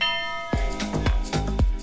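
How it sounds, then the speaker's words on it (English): A bell rings to announce the start of a tour at a Madeira wine lodge in an old building in Funchal: four bright, ringing strikes in quick succession with overlapping resonant tones, close and clear. "The start of your tour is announced with a ring of the bell."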